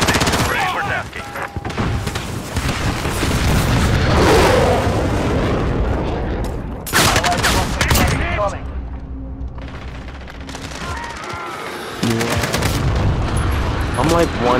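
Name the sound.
called-in fire strike explosions and gunfire in video game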